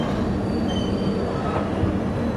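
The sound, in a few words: train coming to a stop on a bridge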